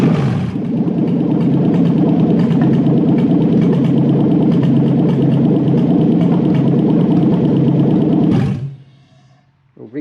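Toyota 1UZ V8 engine fitted in a Holden VL Commodore running loudly at a steady idle for about eight seconds, then shut off, leaving near silence and a faint clunk.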